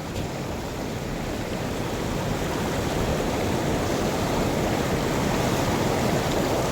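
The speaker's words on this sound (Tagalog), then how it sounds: "Grabe mga kaibigan, ang lakas ng tubig oh." Strong water rushes through a dam, a loud unbroken roar that holds steady and swells slightly toward the end, with no voices.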